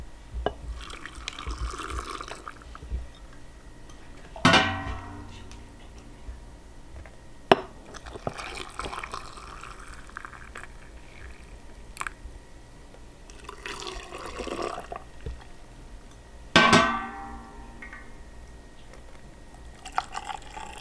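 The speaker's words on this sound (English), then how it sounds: "you want to fill the jars with the brine so they cover" Hot brine is poured into glass jars of hardboiled pickled eggs, with intermittent liquid pours, trickles and drips, plus a few sharp clinks of glass between fills.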